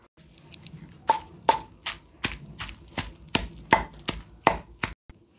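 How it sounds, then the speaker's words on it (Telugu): Garlic cloves and soaked tamarind pounded in a stone mortar, a steady series of about ten sharp, close thuds with short gaps between them, heard alone with no talk. "ఇప్పుడు ఇందులోనే నానబెట్టుకున్న చింతపండును కూడా వేసి దంచుతున్నాను"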